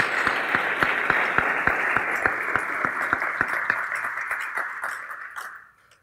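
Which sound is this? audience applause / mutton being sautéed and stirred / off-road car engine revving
audience applause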